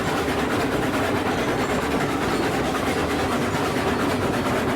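Steam locomotive, a Mogul in the railroad game RailRoads Online, chuffing with a dense, continuous rumbling exhaust and clatter, loud and steady throughout.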